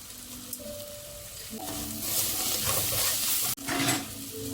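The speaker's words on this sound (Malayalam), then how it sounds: "ഇതെല്ലാം കൂടെ നന്നായിട്ടൊന്ന് ഇളക്കി കൊടുക്കണം" Garam masala being stirred into a Kerala-style vegetable kurma in a pan: a steady sizzle with the scrape and clatter of a spoon against the pan, building louder midway, with no talking.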